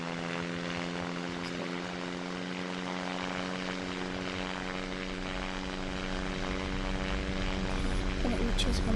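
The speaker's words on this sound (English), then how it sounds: "first we need to turn on the engine" Seaplane propeller engine at full throttle in the SimplePlanes VR flight game, a steady loud droning hum with strong even harmonics that holds throughout and swells slightly near the end.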